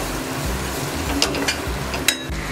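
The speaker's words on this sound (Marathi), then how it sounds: "थोडी कोथिंबीर घालून घेऊया आणि ती मसाल्यांमध्ये भाजून घेऊया आपण" Coriander frying in hot oil with spices for a brinjal and potato dry curry, giving a steady low sizzle with a few soft stirring clinks and scrapes, close and continuous.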